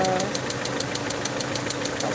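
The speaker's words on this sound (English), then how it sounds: "you can see the engine is kind of shaking" Peugeot 307 2.0i engine with a vacuum leak idling roughly with a rapid, uneven knocking pulse and shaking vibration, close and steady throughout.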